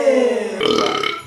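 A person lets out one long, loud, close burp that changes pitch partway through and trails off after about a second.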